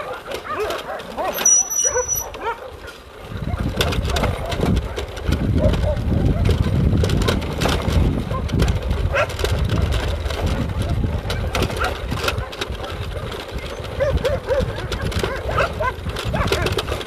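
Several stray dogs at an animal shelter bark and yip near a rubbish area, with an engine-like rumble and brief whimpers under a steady noisy background; a voice speaks briefly.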